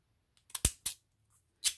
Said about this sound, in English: These are not the best scissors in the world, but they do in a pinch.